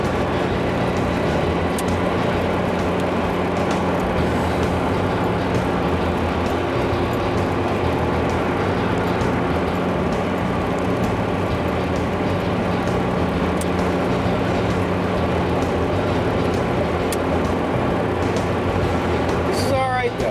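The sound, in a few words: 1985 Chevrolet Celebrity driving, wobbly tire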